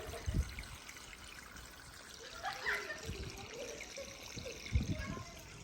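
A small garden water fountain trickles steadily and softly outdoors, with gentle splashes and a few faint thumps.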